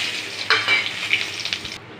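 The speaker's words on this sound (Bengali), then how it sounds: "এবার আমি সব গোটা মশলাগুলো দিয়ে দিলাম।" Whole spices fry in hot oil in a pan, giving a loud close sizzle that flares sharply partway through and crackles on evenly before cutting off abruptly.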